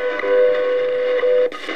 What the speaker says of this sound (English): you can hear the low tone there from Colorado on 5.